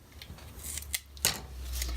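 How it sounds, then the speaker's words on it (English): Scissors cut foam tape at a paper-crafting table: a few quick, crisp snips close by, spaced unevenly across the moment with quiet handling between. "I have a pair of scissors that I use only for cutting my foam tape"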